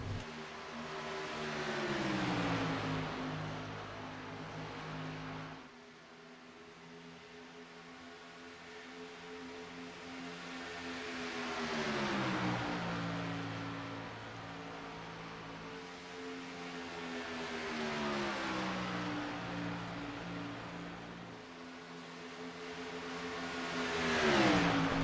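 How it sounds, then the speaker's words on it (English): Race cars in a racing video game roll in, each engine swelling and then easing as it passes. Several steady waves of droning engine tone repeat about every five seconds, with no talking. "we've had a couple more cars roll onto the property here"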